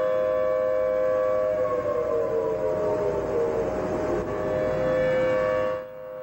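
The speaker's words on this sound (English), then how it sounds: "you can hear what a warning siren sounds like" A civil defense tsunami warning siren sounding across Hawaii during a night alert, a loud, sustained wailing tone that slowly drifts down in pitch, heard alone without voices before cutting off near the end.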